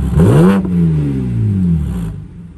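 A car engine revs hard on the motorway, rising sharply then holding a steady, loud mid-pitched drone before easing off, close and alone without voices.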